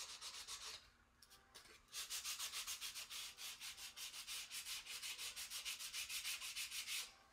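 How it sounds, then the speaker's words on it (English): Hand sanding across a DIY chalk-paste home decor sign in steady, rhythmic back-and-forth strokes, a dry close scratchy rasp repeating rapidly for several seconds with a brief pause near the start. "Sand it."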